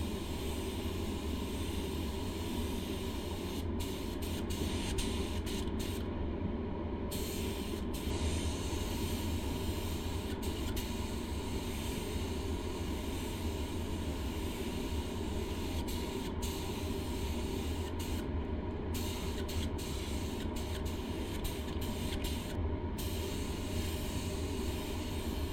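A spray gun lays candy paint onto a motorcycle fuel tank turning on a spit-roast rig, a steady continuous hiss that holds for the whole stretch with no voices over it.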